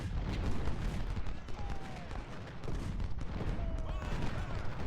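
Musket volleys roll through a Civil War battle in Ultimate General at Cedar Mountain: a dense, continuous crackle of massed fire with deep rumbling underneath, constant and loud throughout.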